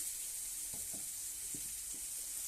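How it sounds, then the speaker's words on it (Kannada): Faint, even sizzle of food frying in a pan until brown while cooking cauliflower palya, with a few soft low knocks from stirring, close and quiet, no talking. "ಚೆನ್ನಾಗಿ ಫ್ರೈ ಆಗ್ಬೇಕ್ರಿ. ಕಂದು ಬಣ್ಣ ಬರ್ಬೇಕು, ಬ್ರೌನಿಶ್."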